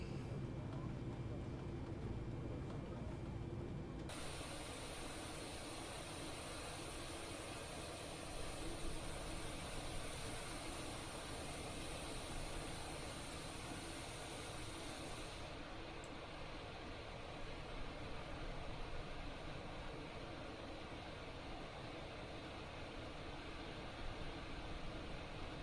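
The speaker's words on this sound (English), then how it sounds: "Let's listen to the engines one more time here." Boeing 787-9 engines in a flight simulator game: a steady, broadband jet roar that holds evenly throughout, with a sharp shift in tone early on and a softer change in the upper hiss midway, with no voice over it.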